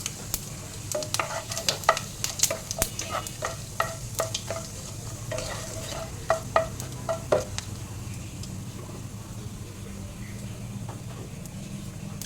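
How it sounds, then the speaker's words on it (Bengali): Dried red chilli, bay leaf, whole cumin and asafoetida frying in oil in a wok, a soft steady sizzle under repeated sharp clinks and scrapes of a spatula stirring against the metal pan. "এবারে কড়াইয়ের মধ্যে শুকনো লঙ্কা, তেজপাতা, গোটা জিরে আর হিং সোমবারে দিয়ে দিলাম।"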